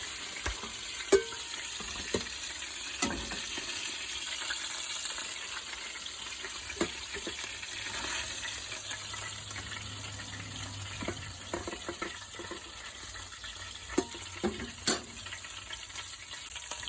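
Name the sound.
cooked beef patties removed from frying pan and drained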